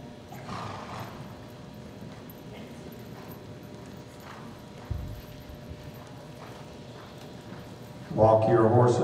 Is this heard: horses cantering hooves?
yes